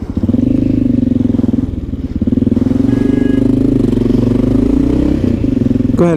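A Honda XR650L single-cylinder motorcycle with a motard conversion, new brake pads and bled brake fluid, runs close and loud, a steady rough thumping engine note holding level with slight rises and dips.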